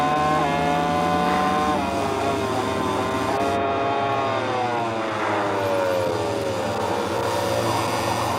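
MotoGP racing motorcycle engine heard onboard at Sepang, Malaysia: a loud, close high-revving scream rising through gears with brief drops at shifts, then a long sweeping climb as the bike accelerates.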